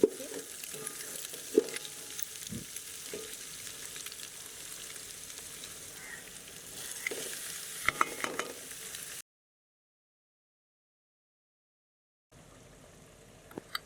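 Rice stir-fried with eggs and vegetables in a pan gives a steady soft sizzle with scattered scraping and clinking of the spatula, broken by a few seconds of silence before the frying resumes.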